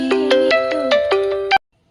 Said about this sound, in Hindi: सॉरी, बीच में फोन आ गया।